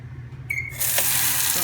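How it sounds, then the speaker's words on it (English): Water runs from a non-potable office sink tap into a deli container. A faint click comes first, then a steady, close hiss of flowing water that lasts to the end. "get my water from the sink right here that has the sign that says non-potable water"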